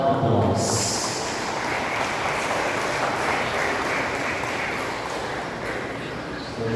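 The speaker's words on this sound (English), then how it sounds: "Let us give them a big round of applause." Wedding guests clap in a dense, steady round of applause that fills the room, with murmured voices and crowd noise mixed in throughout.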